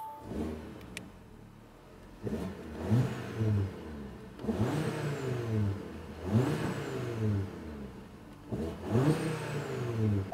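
A cold Audi RS3 engine is blipped several times, each rev rising sharply then dropping back to idle, loud and close with short pauses between.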